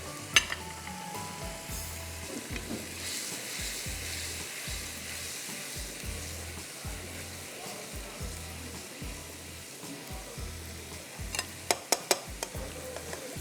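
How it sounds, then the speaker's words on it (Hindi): Boiled peas and fried potatoes stirred into a hot sizzling pot for moti pulao, a continuous frying hiss with regular low scraping stir strokes and a few sharp clinks near the end. "अब आप इस वक्त इसमें डाल दीजिए मटर और आलू।"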